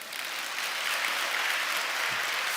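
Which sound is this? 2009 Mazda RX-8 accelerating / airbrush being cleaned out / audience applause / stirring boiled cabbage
audience applause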